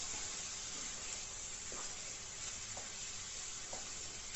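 Apple pieces sizzling in a hot pan, a steady broadband frying hiss with faint intermittent crackles and stirring, no voices.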